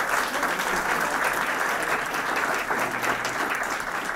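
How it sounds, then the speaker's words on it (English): Sustained applause from an audience at a living history lecture, a dense even wash of clapping holding steady from start to finish with no speech over it. "Let's give her another big round of applause."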